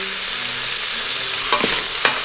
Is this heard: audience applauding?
no